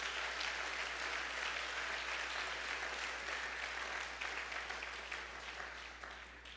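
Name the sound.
congregation applauding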